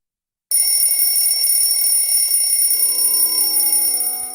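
After a brief silence, a shrill electronic alarm clock starts ringing continuously, loud and piercing, holding steady until the end.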